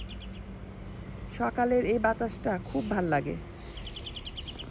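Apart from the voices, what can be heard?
birds chirping on a house roof in the morning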